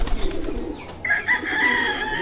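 Pigeons in a loft give a short coo after a moment of soft background rustle, the call near and moderately loud.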